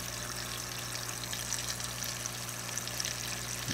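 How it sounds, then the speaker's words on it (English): A small water pump runs steadily just after being plugged in, a continuous watery gurgle and rushing flow with a low buzzing hum underneath, fairly close and constant throughout with no talking. "You'll hear it gurgling and buzzing for just a minute as it sucks up the water."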